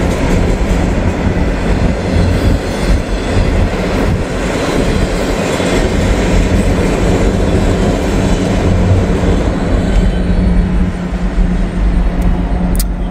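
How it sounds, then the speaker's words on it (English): A freight or passenger train rolls past on a busy rail line during the afternoon rush, a loud, steady rumble and rattle of wheels and cars holding constant throughout, close and unbroken. "whatever train that was, there it goes."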